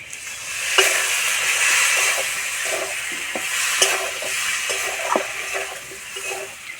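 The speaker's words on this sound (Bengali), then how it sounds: "আলু খুব ভালো করে কষানো হয়ে গেছে এবার আমি অল্প একটু জল দেবো" Potatoes sautéed in a pan with duck eggs hiss and sizzle steadily as a little water goes in, with repeated spatula scrapes and clinks scattered through the continuous close frying noise.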